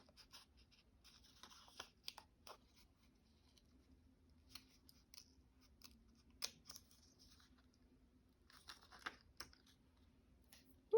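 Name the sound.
scissors cutting out a paper piece for a journal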